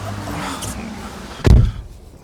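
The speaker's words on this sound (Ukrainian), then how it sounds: "Так, закриємо двері." A single solid thud of a Renault Zoe car door slamming shut, close by, after a moment of quiet rustling.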